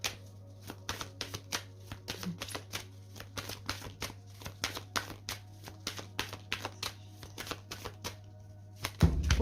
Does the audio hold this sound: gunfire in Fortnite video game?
no